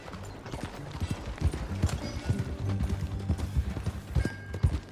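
Steady clip-clop of horse hooves at a walking pace in Red Dead Redemption 2, close and clear, with a faint low rumble underneath.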